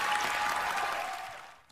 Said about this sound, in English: there was an outbreak of applause, but not by everyone